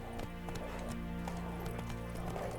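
Roach, the horse in The Witcher 3, clip-clops in a steady rhythmic trot, the hooves close and clear over a dense background of game sound.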